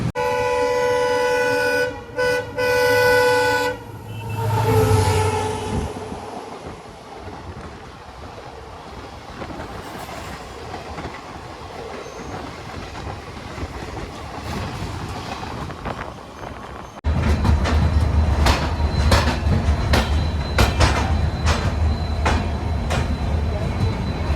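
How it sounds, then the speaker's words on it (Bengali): The Garib Rath Express pulls into Guwahati station on a rainy day after the run from Kolkata: a horn blares early, then wheels rumble steadily with wind noise and rhythmic clatter growing louder near the end. "কলকাতা থেকে হাজার তিন কিলোমিটারের যাত্রা সম্পন্ন করে ট্রেন এসে পৌঁছেছে তার গন্তব্য স্টেশন গুয়াহাটিতে"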